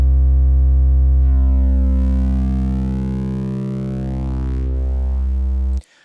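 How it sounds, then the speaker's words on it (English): Sequential Pro 3 synthesizer playing a triangle oscillator as its shape modulation sweeps, wave-folding the tone. A loud, steady, buzzy held note grows brighter and more harmonically rich, with shifting overtones, then cuts off abruptly near the end. "We have this sort of wave folding effect going on."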